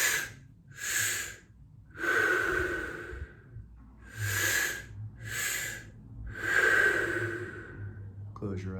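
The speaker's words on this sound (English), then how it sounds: "Listen to the sound of your breath" Slow, deep breaths during a guided breathwork session, with about seven loud, airy inhales and exhales in a steady rhythm, close to the microphone and heard on their own.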